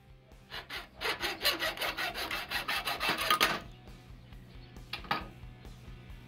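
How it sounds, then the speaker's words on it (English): A hacksaw cuts through titanium in rapid back-and-forth rasping strokes for about three seconds, close and fairly loud, then stops, followed by a couple of faint scrapes and handling sounds. "You can cut through titanium with a hacksaw."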